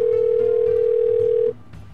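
A steady telephone tone hums for about a second and a half while a call to a friend is placed, then cuts off abruptly, leaving a faint background murmur.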